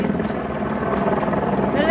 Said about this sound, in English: What are the helicopters even doing?